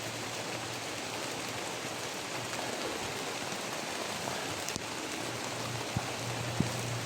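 Steady rain falling outdoors, a constant even hiss with no pauses and a few faint taps, moderately quiet and without talk.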